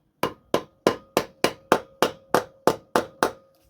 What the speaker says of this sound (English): I'll just put it on and tap it